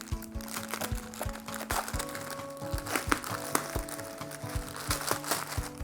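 Package being opened and packaging crinkled and crushed by hand, a close, busy run of crackling and rustling with sharp snaps, steady over several seconds, with soft tonal background sound underneath.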